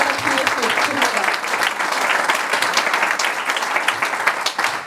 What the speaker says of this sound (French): J'espère que nous allons l'applaudir vivement.